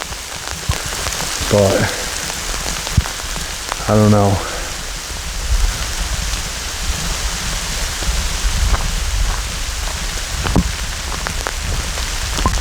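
Rain falls steadily on a forest in the Adirondacks, a constant soft hiss of drops spread across the whole clip, with someone speaking briefly over it.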